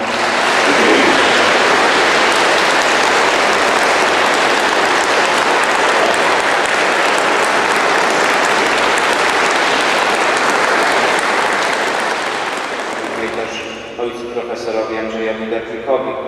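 A large audience applauds performers of an oratorio at a Polish church anniversary celebration, a dense sustained roar of clapping that fades out near the end as it thins into scattered sounds.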